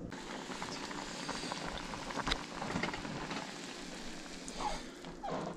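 Hot sauce bubbling at a rolling boil in a pot, a constant crackly hiss with small pops breaking through, close by and fairly quiet.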